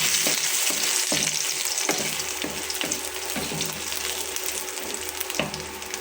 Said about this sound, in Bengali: এইটা তেলে ভালো করে ভাজতে হবে।